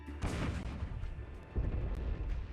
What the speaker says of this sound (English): This vintage 75mm recoilless rifle blasts away danger areas